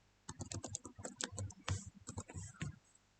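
Password being typed on a computer keyboard: a quick, uneven run of close, crisp key clicks for about three seconds, with no talking.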